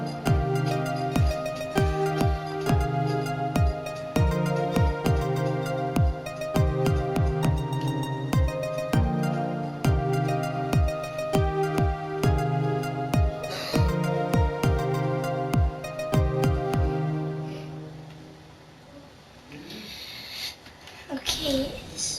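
Electronic-style music from a Fortnite song, built in the game, with a steady punchy beat and repeating synth notes running for most of the stretch before thinning out near the end.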